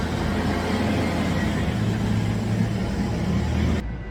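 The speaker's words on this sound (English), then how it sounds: "garbage truck" A garbage truck idles and rumbles nearby with a steady, loud low engine drone that holds without pause before cutting off abruptly near the end.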